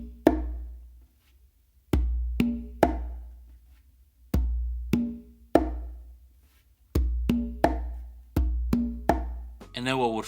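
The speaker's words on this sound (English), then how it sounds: "then the close slap. So it should sound like this." Hand drum struck in a repeating pattern of a ringing open tone followed by a sharp closed slap, each pair separated by short pauses, close and clear with decaying resonance.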